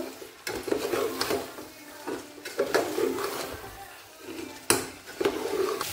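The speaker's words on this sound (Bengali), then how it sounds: "আলাদা করে আলুগুলো ভেজে নিয়েছি, তো সেগুলো দিয়ে দেবো। তো ভালো করে মিশিয়ে নেব।" Fried potatoes being stirred into mutton curry in a cooking pan, with repeated scraping and clanking of a spoon against metal over a soft sizzle, close by and with no talk.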